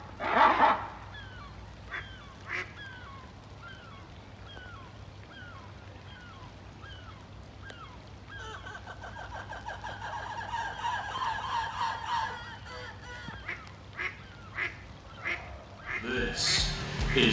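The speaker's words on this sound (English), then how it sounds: "The absolute highlight of which has to be the ducks arguing with the lemurs." Ducks at Chester Zoo squabbling with lemurs: repeated honking and quacking calls, loud at the start, then a run of rapid nasal squawks and chatter building toward the end over a steady low background hum.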